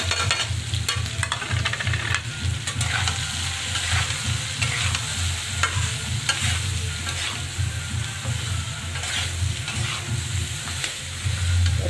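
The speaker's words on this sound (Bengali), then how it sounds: "এটা আমি ভালো করে ভেজে নেব।" Soyabean curry masala with salt, chili powder and turmeric fries in a pan, making a continuous close sizzle with steady stirring and scraping throughout, with no voices.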